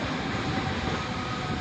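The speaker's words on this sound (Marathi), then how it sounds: "प्लॅटफॉर्म क्रमांक 3 पर आई हुई लोकल 2:20 की छत्रपती शिवाजी महाराज टर्मिनस जाने वाली धीमी लोकल है" A slow Mumbai local train at Dombivli station platform, a continuous dense rolling rumble of rail cars running close by, with no voices over it.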